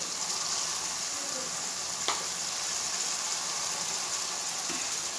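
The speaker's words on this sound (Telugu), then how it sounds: "ఇప్పుడు మనం ఇందులో కట్ చేసి పెట్టుకున్న క్యాబేజ్ తురుము వేద్దాం" Grated cabbage hits a pan of hot frying masala, giving a steady broad sizzle with a couple of faint clinks from stirring, alone and continuous.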